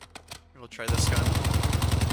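Rapid automatic gunfire in the video game DMZ, a loud, steady burst of repeated shots that starts after a moment of quieter in-game sound and keeps going to the end.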